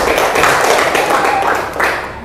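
Students in a classroom clap together during a teacher-training lesson, a dense, steady patter of many hands that holds for a couple of seconds and then tapers off.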